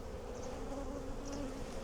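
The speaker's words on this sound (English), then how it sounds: "Nice looking bees." Honey bees buzz steadily on hive frames, a close, continuous insect drone with a few brief higher-pitched passes of individual bees flying nearby.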